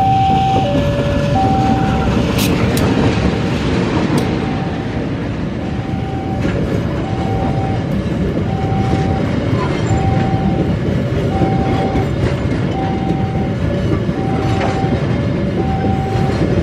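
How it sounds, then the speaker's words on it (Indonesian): A local train rolls past close by on a straight track, wheels clacking steadily over the rails with a low rumble and occasional metallic squeals, continuing throughout. "Kereta lokal sudah melintas di sini."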